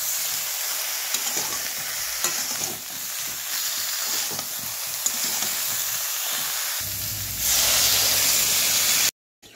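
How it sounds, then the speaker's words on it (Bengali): Potato pieces frying lightly with turmeric and salt give a continuous close sizzle broken by repeated stirring scrapes, then swell into a louder, even hiss before cutting off abruptly. "এবার একটুখানি ভেজে দেবো, হালকা, একেবারে খুব বেশি ভাজা ভাজা করবো না।"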